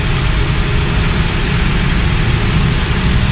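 Close, steady idle of a Toyota Camry ACV40 engine during an alternator charging check, a loud even rumble with a constant low drone and no change in pace or any talk.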